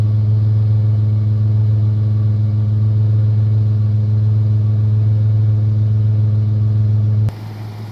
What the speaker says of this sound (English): Let's kind of listen to the exhaust here.